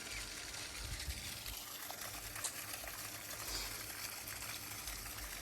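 Borewell water drawn from five or six hundred feet deep pours into a farm fish pit, making a steady, faint rushing and splashing that continues without pause.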